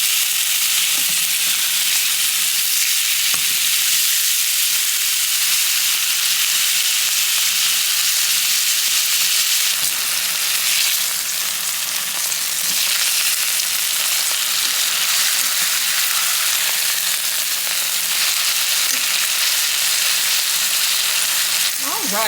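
Freshly flipped steaks fry loudly in a skillet, a dense, continuous sizzle and crackle heard up close, with occasional utensil scrapes and no speech.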